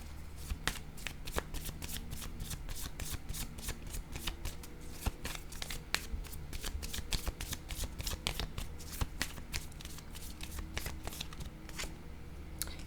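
Tarot cards are shuffled close up, with a continuous rapid riffle of crisp card flicks and taps running steadily throughout, fairly quiet.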